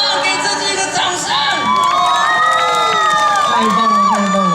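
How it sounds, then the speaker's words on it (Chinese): A temple festival concert crowd claps, cheers and whoops loudly and continuously, with shrill voices and children shouting mixed into the roar. "给自己一个掌声"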